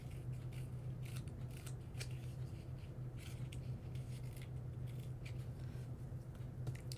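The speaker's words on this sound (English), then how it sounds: "taking my scissors and just roughing up that edge a little" Scissors scrape and snip along the edge of a paper card to rough it up, making a string of quick, crisp, close-up clicks over a quiet hum.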